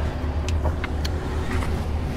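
Bus engine droning steadily while riding through India, a low continuous hum with faint rattles and clicks from inside the vehicle.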